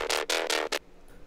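A synth layer roughened with erosion, white noise and EQ, panned slightly left, hits as four loud, bright, noisy bursts in quick succession, the last one shorter, then cuts off to near silence.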